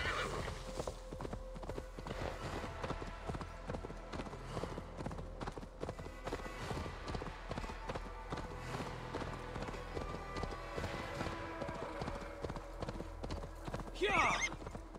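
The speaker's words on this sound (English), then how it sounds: "Just grab a horse, any horse," In the video game Assassin's Creed Valhalla, a horse clip-clops at a steady rhythmic gallop, hooves close and continuous, with a sharp neigh near the end; someone talks over it.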